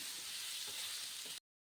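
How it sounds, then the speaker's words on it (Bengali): Steady, loud frying sizzle of potatoes in a pan over medium heat fills the clip with a couple of faint stirring scrapes, then cuts off abruptly. "আলুটা আমি দু তিন মিনিট ভেজে নিয়েছি প্রায় ভাজা হয়ে এসেছে"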